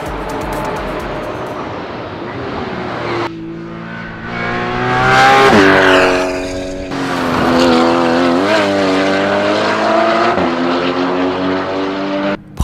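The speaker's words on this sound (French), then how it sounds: "le son du moteur Flat Six est incroyablement fort" A loud, high-revving flat-six engine of a Porsche Cayman GT4 Clubsport race car roars continuously on a racetrack, rising and shifting pitch through gear changes, close and dominant with no voices.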